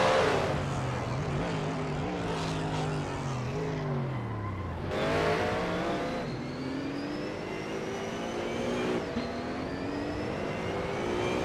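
Race cars roar through a corner in a nonstop racing video game, engines revving and shifting pitch as several cars pass close together, with steady loud engine drone throughout.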